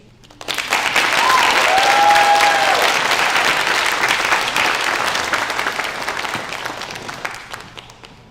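Sustained audience applause after student creative writing readings, steady clapping from a crowd filling several seconds and slowly tapering toward the end.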